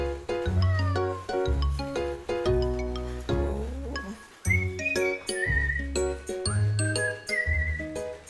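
A cat meows over and over in a long run of drawn-out, tonal cries, loud and close, with only brief gaps between calls.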